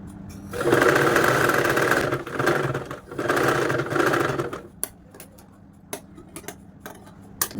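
A sewing machine stitches a kids' frock in a steady, close run of rapid mechanical whirring lasting several seconds, then stops, leaving scattered light ticks and clicks of handling.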